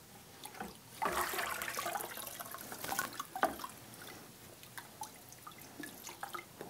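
An SCBA face piece is lowered into a basin of cleaning solution, giving a soft splash followed by quiet bubbling, dripping and trickling water at close range.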